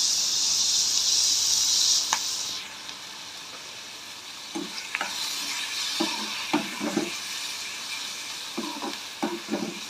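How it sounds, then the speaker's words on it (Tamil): Onions sauté in oil in a pan for a small bitter gourd stir-fry. A bright hissing sizzle fades after a couple of seconds, followed by soft crackling and a scattering of light scraping and stirring taps against the pan. "வெங்காயம் இப்போ வதங்கட்டும் நல்லா"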